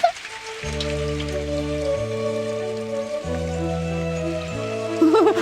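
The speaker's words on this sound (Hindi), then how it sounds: "हाँ, बारिश बारिश हो रही है" Rain falling in a Doraemon cartoon scene, a constant patter under steady, stepped tonal notes that change every second or so, loud and continuous throughout.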